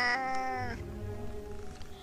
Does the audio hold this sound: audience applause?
no